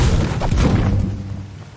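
A Fortnite gunshot fired at a teammate, a loud booming blast followed by a dull fading rumble.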